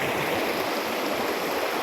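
A clear mountain creek flows in a steady, broadband rush of water, close and continuous with no voices.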